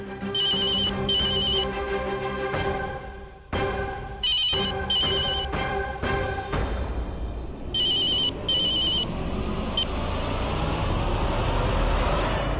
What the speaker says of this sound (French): Allô? Allô, Teja? Oui, maman.